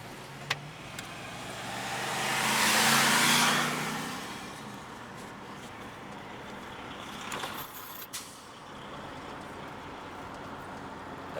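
A car drives past on a rural road, swelling from a faint approach to a broad rushing whoosh and then fading away, with a few light knocks and clicks nearby afterward.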